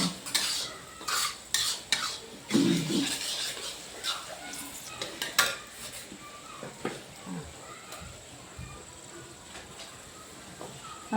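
Green chillies and red chilli powder sautéing in a pan over a smoky village-style fire, with a utensil clinking and scraping in irregular bursts over a faint sizzle and a voice talking softly now and then.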